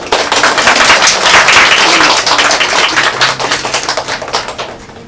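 Audience applause at a book concert greeting the author, a dense wash of many hands clapping near and loud, thinning and fading slightly toward the end.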